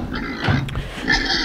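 Pigs on a farm near a fence grunt and oink in a short, close, fairly loud burst of rough snorts, with no talking.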